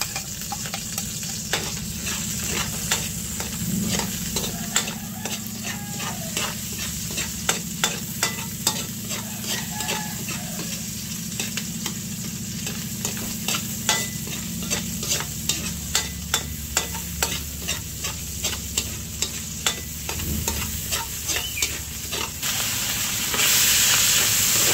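Garlic and onion sautéed in a pan for spaghetti sauce, a constant close sizzle with regular scraping strokes of a stirring spoon, frying growing louder at the very end, no voices.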